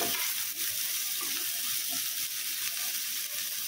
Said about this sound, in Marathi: आता यामध्ये मी टोमॅटो टाकत आहे.